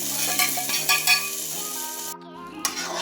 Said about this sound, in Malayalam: ഇനി അതിലേക്ക് നമുക്ക് അണ്ടിപ്പരിപ്പ് മുന്തിരി പിന്നെ വറുത്തിട്ടിടാം.